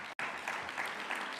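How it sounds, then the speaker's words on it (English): A crowd at a local manufacturing summit gives a brief, steady round of applause, faint and distant, following a short break in sound. "I think it's worth a round of applause"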